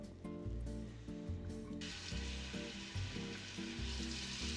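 Chunks of chorizo hit a hot pot and fry with a loud, steady sizzle that swells into a bright crackle partway through, heard alone over a low musical bed.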